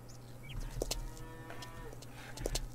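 Cattle in the farming video game Farmer's Dynasty moo in a drawn-out, moderately close call over a steady low farmyard background hum, with no talking.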